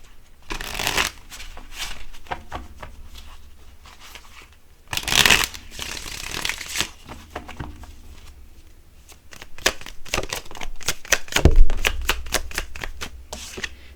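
A deck of tarot cards is shuffled by hand, giving rapid riffling bursts and crisp card slaps that come in uneven waves, close and fairly loud, with no speech during the shuffle.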